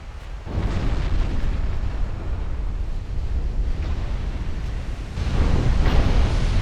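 Heavy naval shells strike and explode in a dreadnought battle between Norwegian and Brazilian fleets, set in 1926, a continuous roaring wash of blasts with a louder surge of explosions near the end.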